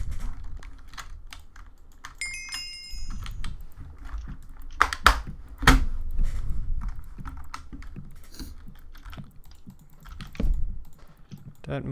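A computer keyboard is shifted and handled on a desk, giving scattered clacks, knocks and rattles with a few sharp louder hits. Typing-like taps run through the whole stretch, close and moderately loud.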